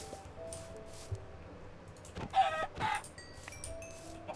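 Chickens cluck in a Minecraft farm, with short soft clucks spaced irregularly and a couple of louder, quicker bursts near the middle over a quiet background with faint game tones.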